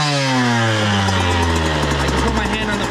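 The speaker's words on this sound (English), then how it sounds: "As soon as you start the bike," A Husqvarna TC 85 dirt bike engine starts up and settles into a steady idle, its pitch sliding downward over the first seconds as the revs drop, loud and close.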